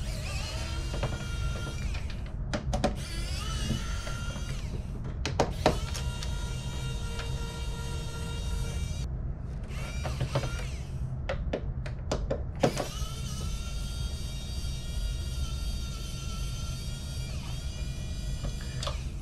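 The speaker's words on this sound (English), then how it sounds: "We're gonna remove these screws" Electric screwdriver removing the screws that hold the fan of a PS5 power supply, several short whirring bursts separated by pauses, close and clear with no talking.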